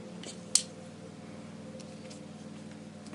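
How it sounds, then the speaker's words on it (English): Cutters take a little material off a diecast model car: one sharp, close snip stands out against a steady low hum, with no talking. "I have to cut off a little bit of material"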